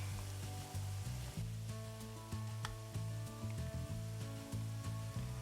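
Onions sizzling in melted butter in a pot, a steady close hiss with soft crackle and a low hum underneath, fairly quiet overall and no talking.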